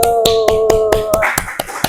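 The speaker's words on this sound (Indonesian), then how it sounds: "Tepuk tangan." Students in an Islamic religious education classroom clap in a quick, even rhythm of about nine sharp claps, while a sustained voice carries underneath the first part.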